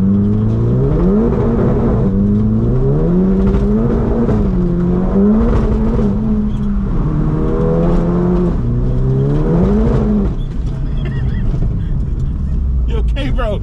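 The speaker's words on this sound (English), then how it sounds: "It's just spinning in every gear." A Mercedes CLA45s AMG accelerating with its wheels spinning, heard from inside the car: the engine note climbs and drops in repeated loud sweeps as it revs through the gears, strong and close.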